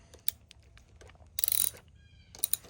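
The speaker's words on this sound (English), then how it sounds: "And then they take a 10 millimeter socket to tighten up." Ratchet clicking from a 10 mm socket tightening bolts on the aluminum housing of a 2023 Honda BF50 outboard, with faint scattered clicks and one louder burst of rapid ratcheting, nearby and without talk.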